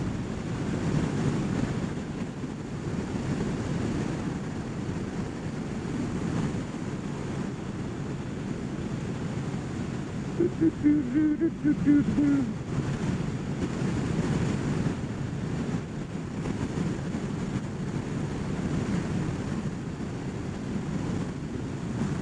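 Wind buffets the rider on a Kawasaki Ninja 1000SX motorcycle, a constant, heavy broadband roar that holds steady throughout with no speech.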